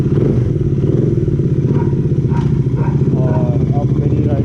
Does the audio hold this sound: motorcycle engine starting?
yes